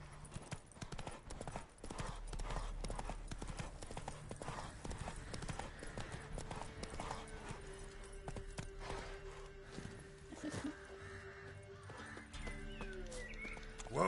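Hooves of Roach, a horse in the video game Witcher 3, clip-clop in a steady galloping rhythm, loud and close throughout, with background game music and occasional speech mixed in.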